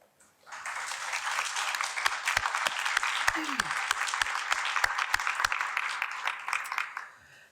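An audience at a school board meeting applauds an honoree, an Army veteran, with sustained clapping that swells in, holds steady with a few sharp nearby claps, then fades; a brief voice cuts through midway.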